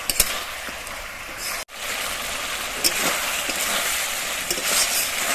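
Poultry skin frying in a pan as water seeps out, giving a steady, close broadband sizzle with faint crackles and a brief break partway through, no voices.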